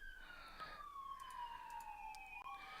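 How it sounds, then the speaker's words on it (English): Sirens wail past at a distance, their pitch sliding downward as they move away, with faint street traffic underneath and no talking. "Sorry if you guys can hear the sirens going by."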